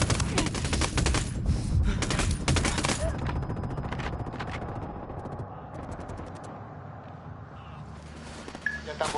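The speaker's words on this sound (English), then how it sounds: "I'm opening fire" Rapid automatic gunfire in the tactical shooter Ghost Recon Wildlands, dense bursts crackling for the first few seconds then easing into scattered shots and a lingering rumble, with voices talking underneath.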